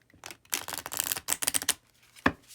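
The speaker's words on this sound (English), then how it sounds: "like to riffle shuffle because that way you can shuffle better" A deck of round tarot-style cards being riffle shuffled, with several quick crisp bursts of fluttering card flicks up close, then a brief pause and one short sharp snap near the end.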